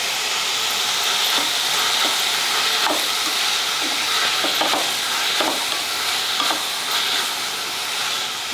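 Tomatoes with salt sizzle in a frying pan for North Karnataka jolada rotti oggarane, under a steady, loud hiss broken by repeated scraping stirs of a spoon.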